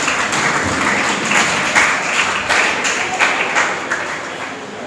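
An audience at an English academy's confidence-building program claps steadily for about five seconds, a dense, fairly loud patter of many hands with no break.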